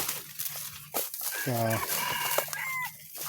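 Roosters crow near a rice field in Thailand, two birds answering each other: one clear, drawn-out crow mid-clip, then a fainter one further off, over outdoor background noise and a voice.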